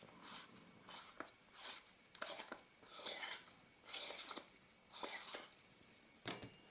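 A rubber gasket is used to unscrew part of a Nikkor-H.C Auto 85mm f/1.8 lens assembly, producing rhythmic, close rasping twists in repeated bursts, each separated by brief pauses and ending with a sharp click.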